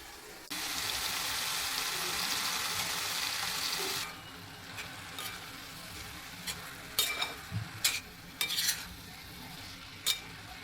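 Fenugreek leaves tipped into a pan with homemade red chili powder, turmeric and coriander-cumin powder give a loud, steady sizzle for a few seconds. It then drops to quieter frying with scattered clinks and scrapes of stirring.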